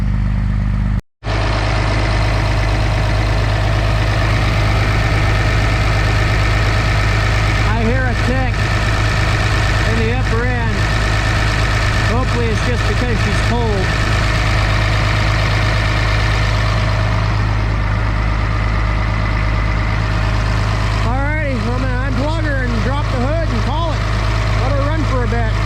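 A diesel engine idles loudly and steadily after starting, a constant low rumble with clatter, while a voice speaks intermittently over it.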